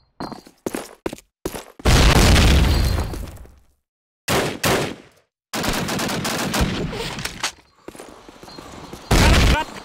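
Call of Duty: United Offensive match on a city street, with bursts of machine-gun fire and rapid shots punctuated by loud grenade blasts, dense and close with brief gaps between volleys.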